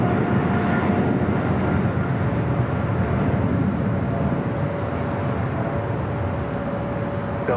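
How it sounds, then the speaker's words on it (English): A Singapore Airlines Boeing 777-300ER heavy jet takes off from the south side at Los Angeles airport, a steady loud broadband engine roar that holds throughout with no voices. "We do have a heavy taking off on the south side. Singapore Airlines, flight 11, heading back to Tokyo Narita"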